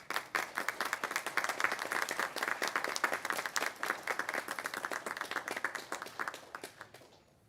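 Sustained applause from a graduation ceremony audience, dense rapid clapping that carries steadily before tapering off at the end.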